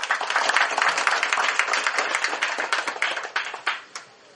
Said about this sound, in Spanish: con un fuerte aplauso con los que están acá presentes